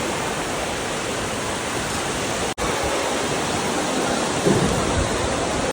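Heavy rain and strong wind at Ranjangaon Ganpati temple, a loud continuous roaring wash with a brief dropout midway and a gust swelling near the end.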